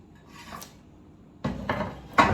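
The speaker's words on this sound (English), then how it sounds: "I'm just going to turn these upside down on my pan. In this case, are cast iron skillets" Squash halves set face down one after another onto a cast iron skillet, a few close, soft thuds and scrapes after a quiet start.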